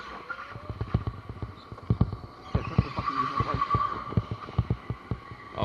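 Racing go-karts run on an indoor track, with small engines buzzing and rising in pitch near the middle over a rapid run of rhythmic thumps and tyre noise, close and busy.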